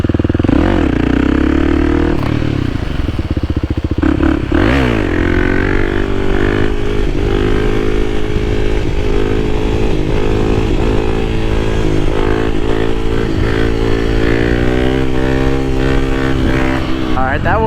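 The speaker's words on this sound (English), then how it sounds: "I want to try a third gear wheelie kinda." A Kawasaki KLX300 dual sport motorcycle revs hard and climbs through gears for a third-gear wheelie, its engine rising and falling in loud, close sweeps with clattering and wind noise.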